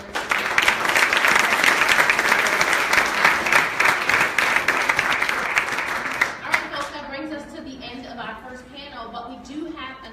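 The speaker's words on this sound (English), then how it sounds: "would you as the audience join me in applauding our panelists" Audience applause for panelists at a Baltimore legislative agenda day, strong steady clapping that tapers after several seconds as a voice begins talking over the fading claps.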